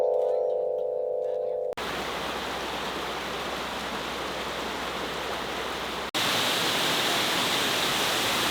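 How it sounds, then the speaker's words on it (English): Water pours down a waterfall, seen from an Alaskan cruise, as a steady, broad roaring rush that runs without a break, fairly loud and unbroken. "Such a pretty waterfall"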